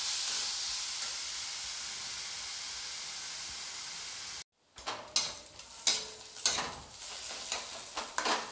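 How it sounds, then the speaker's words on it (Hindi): Onions fry in a pan with a steady, close sizzling hiss for several seconds. The sizzle then cuts off and gives way to scraping, clattering stirring strokes. "डालने के बाद मैं इसको ब्राउन होने तक भूनूँगी।"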